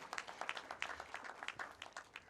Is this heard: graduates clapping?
yes